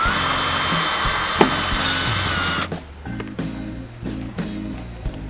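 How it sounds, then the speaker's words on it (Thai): A Bosch GSB 180-Li cordless drill runs at speed 2 through roughly 1 cm thick wood with a steady high whine, then stops and is pulsed in several short bursts, close and clear. "เดี๋ยวผมจะเจาะไม้ให้ดูนะครับว่า ความเร็ว มันได้ประมาณไหนนะครับ"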